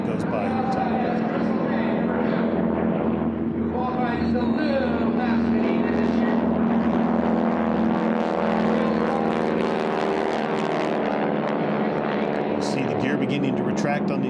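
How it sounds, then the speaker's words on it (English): A T-6 aircraft with a 9-cylinder Pratt & Whitney air-cooled radial engine flies by at an air race, its steady droning roar running throughout beneath continuous commentator talk. "That is the 9-cylinder Pratt & Whitney air-cooled radial engine."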